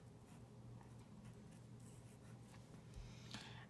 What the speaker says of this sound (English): so I'm going to write that down